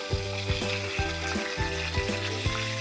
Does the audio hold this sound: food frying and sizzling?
yes